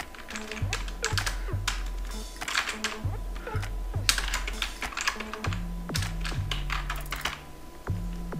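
Typing on a computer keyboard while entering text in Photoshop, a quick, irregular run of close keystrokes, with faint background music underneath.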